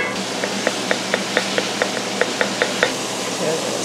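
Charcoal and bentonite clay being stirred into oils and beeswax: a utensil taps against the container in a steady, even rhythm about four times a second, up close over a low background hiss.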